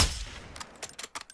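Gunfire in the video game Warzone, shooting out a vehicle's tires: a loud initial burst followed by several sharp, spaced shots and pops.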